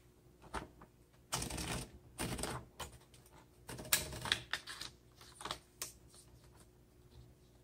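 Bursts of clacking keystrokes from a 1960 Adler Primus manual typewriter, irregular clusters with short pauses between them, close and clear with no talking.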